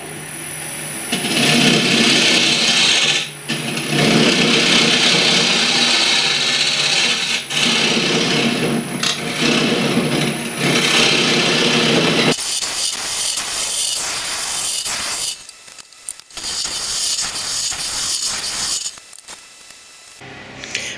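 Wood lathe hollowing out a textured bowl, a loud continuous broadband cutting roar for about twelve seconds, then rougher, choppier scraping with brief pauses, close up with no talking.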